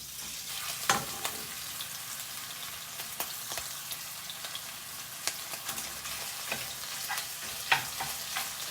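Sausage frying in a pan over high heat, a continuous bright sizzle with scattered pops and occasional stirring clicks, close and steady for several seconds with no talking.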